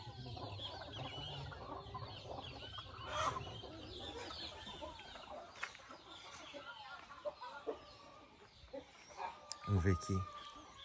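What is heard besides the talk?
brooding hen clucking on its nest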